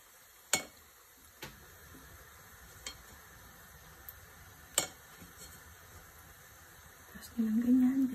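Prawn tempura skewers sizzle in hot oil with a faint, steady hiss, broken by a few sharp clicks and taps, before a louder burst near the end as more go into the pan.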